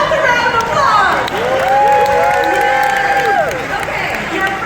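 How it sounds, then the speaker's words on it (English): A theatre audience on opening night in Minneapolis breaks into loud, sustained applause with cheering and whoops, a dense wash of clapping filling the room for several seconds. "Give yourselves a round of applause."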